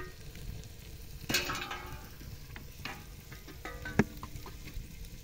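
Cauliflower and potato curry cooking in a pan over a village wood-fired clay stove, with faint stirring and a soft sizzle, one sharper scrape early on and a brief clack near the end, no talking.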